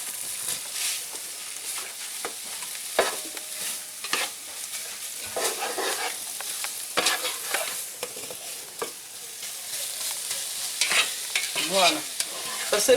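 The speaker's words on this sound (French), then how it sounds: "Mais les échalotes doivent encore bien cuire." Bacon and shallots sizzle and crackle in a frying pan, with repeated scraping stirs and spatula knocks cutting through the steady hiss, close and fairly loud with no talking.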